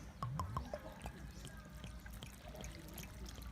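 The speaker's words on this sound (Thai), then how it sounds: "ต่อไป เทน้ำปลาใส่เด้อพี่น้อง" Fish sauce is poured into a jar for pickling field crabs with garlic and lemongrass, a soft steady trickle of liquid close by with a few clinks at the start and no talk.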